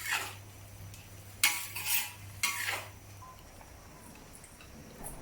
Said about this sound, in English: Stir fry over medium heat and continue to mix until the prawn is cooked.